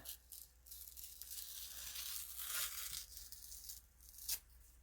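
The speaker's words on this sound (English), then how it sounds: "Peel part of that off." Adhesive backing peeled off a craft piece for a sewing-themed junk journal, a soft close tearing and crinkling over several seconds with a sharper rip near the end, faint and quiet.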